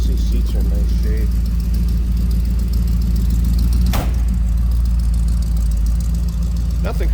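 A 1956 Ford F100 street rod pickup with a 351 V8 idles with a steady low exhaust rumble. Someone talks over the mild burble, and a short sharp click or knock cuts through partway.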